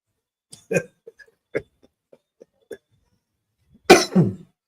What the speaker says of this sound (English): Me cough.